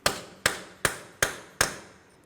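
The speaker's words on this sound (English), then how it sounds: "Now let's continue on with a hammer and a punch." Five sharp metallic hammer blows on a punch, evenly spaced about every 0.4 seconds, each ringing briefly before decaying, close by and loud, driving a punch into the center of a 2004-2010 Chevrolet Cobalt front wheel hub to break it free.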